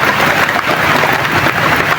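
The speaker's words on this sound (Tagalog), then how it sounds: "sobrang lakas po ng ulan ngayon" Heavy rain pours down in a steady, dense wash at close range, a constant loud hiss with no pauses and no voices.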